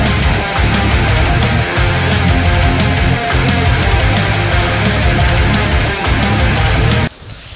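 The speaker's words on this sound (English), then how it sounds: "Well, here comes the rain now." Heavy rain pours down during a stormy bass-fishing outing, a loud, dense, continuous hiss with a rhythmic patter of gusts or drops, running steadily before cutting off abruptly near the end.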